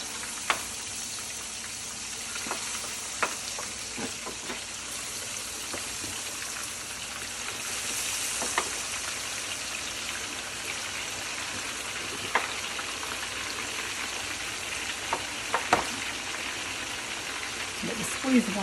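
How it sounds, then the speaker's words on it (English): Thick chops sauté in a pan for kotlovina, giving a constant fizzing sizzle with scattered sharp pops and crackles throughout. "They've been cut where they will, saute off quick and easy."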